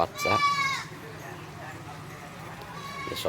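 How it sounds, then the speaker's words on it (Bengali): Black Bengal goats on a small home goat farm bleat in two loud, quavering calls, one at the start and one at the end, with quieter farmyard noise between them. "এই হচ্ছে আমার গট ফার্ম। আমার মোটামুটি এখন 18টা ছাগল।"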